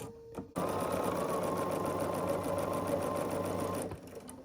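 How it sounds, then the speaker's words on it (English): A sewing machine stitching white quilt pieces along a diagonal for a buffalo plaid Christmas tree quilt, running in one steady continuous whir for about three seconds before slowing to a stop. "And then we're going to sew across this diagonal."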